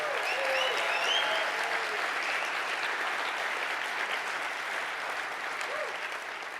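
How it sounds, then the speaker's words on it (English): An audience at a business summit keynote applauds the people on stage, a thick, even roar of clapping with a few scattered whoops, easing off slightly near the end. "Give them another round of applause"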